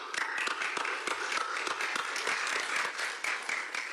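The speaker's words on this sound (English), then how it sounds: "may we give them a round of applause" Attendees at a peace agreement ceremony applaud the signatories, producing a scattered but continuous patter of individual claps, moderately loud and fairly close, without pause across the short stretch.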